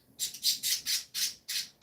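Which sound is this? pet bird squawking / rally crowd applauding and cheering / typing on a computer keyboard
pet bird squawking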